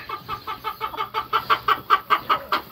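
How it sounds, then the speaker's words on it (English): Farm chickens cluck close by in a quick, steady run of about fifteen short, evenly spaced calls that grow slightly louder, with no voices. "I forgot to feed the pigs and the chickens"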